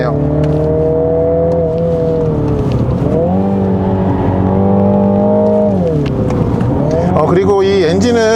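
A 306 hp single-turbo Mini Countryman JCW from 2020 on a winding road, its engine droning steadily with pitch rises and dips as it accelerates, loud and close.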